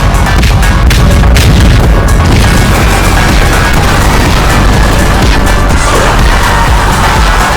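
Incendiary artillery shelling biters in a video game, a continuous loud barrage of heavy booms and crashing impacts with no pauses, close and overwhelming.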